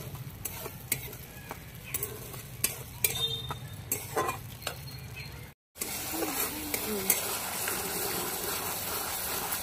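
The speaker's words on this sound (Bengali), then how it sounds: "ভালো করে কষিয়ে নেব মশলাটা।" Masala paste for a pomfret curry being stir-fried in a pan: a soft sizzle runs beneath repeated scraping strokes and utensil ticks. The sound cuts out briefly, then a denser, steadier frying noise continues.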